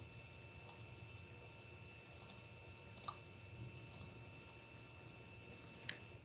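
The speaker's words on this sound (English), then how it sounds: "I'm just typing here." Sparse, faint clicks and taps of typing on a keyboard, a few isolated keystrokes over a quiet background hum.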